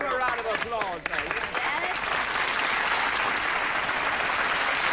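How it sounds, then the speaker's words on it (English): Studio audience applause on a television variety show, a dense, steady wash of clapping that swells after a brief voice at the start and carries on evenly for several seconds. "Give them a round of applause"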